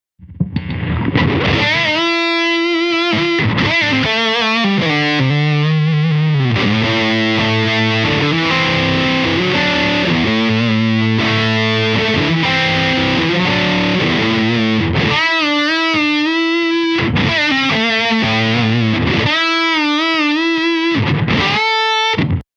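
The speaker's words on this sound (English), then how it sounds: "Fuzzes don't always sound great with humbuckers, but this one happens to sound great with humbuckers." Thick, saturated fuzz from a Dophix Medici Dual Fuzz pedal on a humbucker guitar plays sustained chords and sliding riffs, heavy and loud throughout, with brief gaps between phrases.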